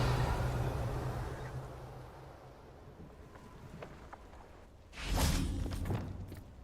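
A spell cast in Hogwarts Legacy gives a sudden swelling whoosh with a bright shimmering burst near the end, rising out of a quiet wind-like ambience and fading over a second or so.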